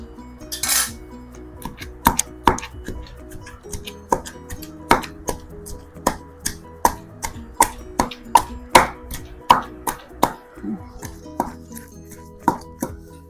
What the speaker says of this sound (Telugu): కొంచెం కష్టపడాలి కదండి దంచుకోవటం అంటే